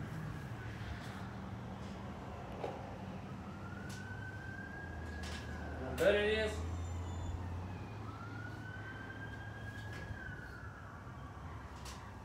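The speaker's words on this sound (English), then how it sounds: "Yeah, that's a police car." A Mesquite police car siren wails steadily from a distance, rising and falling in long sweeps, with a brief remark and faint background noise.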